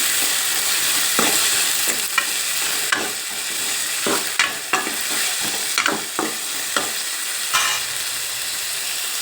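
Chopped tomato and green chili sauté in a hot pan with a steady sizzle, broken by a run of sharp scraping stirs from a spoon, loud and close.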